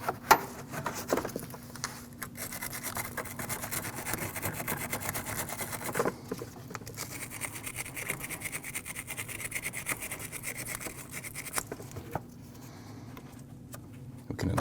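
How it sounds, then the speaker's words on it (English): Brushing and scrubbing the battery terminal posts of a 2014-2023 Jeep Cherokee, a close, steady rapid rasping with brief pauses, no talk. "Let's clean those battery terminal posts."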